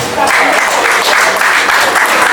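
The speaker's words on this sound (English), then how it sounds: "Please a round of applause." An audience at a call to bar ceremony gives a round of applause, loud and continuous clapping filling the room, with some voices mixed in.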